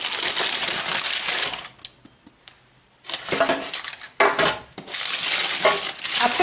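A knife cuts and saws into a crusty loaf of yeast-risen barley bread baked in a loaf pan, with close, loud crackling crunches in bursts broken by short pauses.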